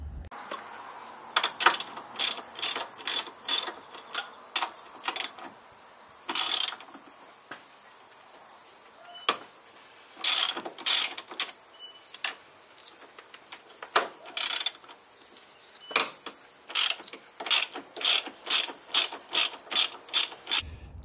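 Ratchet wrench backing off bolts under the bonnet of an Alfa Romeo 147 GTA during a front strut brace install, giving close, bright clicking bursts in repeated runs with short pauses between strokes, no talking.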